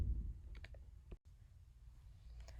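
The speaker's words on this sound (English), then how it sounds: "Now I am going to type in the file that I want to retrieve from the server side" Someone types on a computer keyboard in a quiet room, with a few soft, sparse key clicks followed by near silence.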